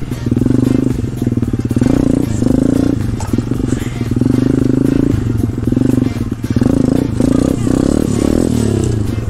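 A small pit bike engine revs hard and pulses unevenly during a wheelie, with rattles and thumps from the bike; loud and close, and a voice is faintly heard under the engine.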